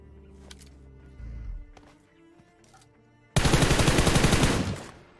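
Gunfire in a mobile battle-royale shooter game, with scattered shots early on, then a loud sustained burst of rapid automatic fire near the end.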